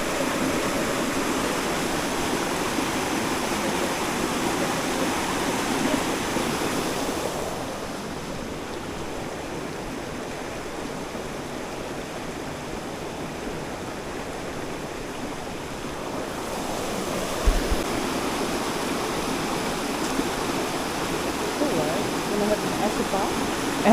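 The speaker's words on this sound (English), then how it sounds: "Acid waterfall." Acidic water tumbles down a waterfall on the Tongariro walk, a broad steady rushing roar with wind noise, dipping quieter for a stretch in the middle before returning at full strength.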